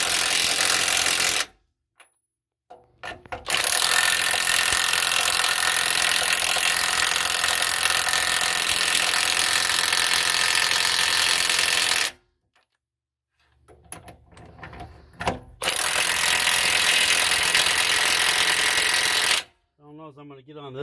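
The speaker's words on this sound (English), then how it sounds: "here we have a 3/4 impact with an 1¼ inch hardened socket" A 3/4 inch impact wrench with a 1¼ inch hardened socket tightens grade 8 bolts on the cutting teeth of an International TD15 dozer, giving two long, loud sustained bursts of rattling hammering with short pauses between.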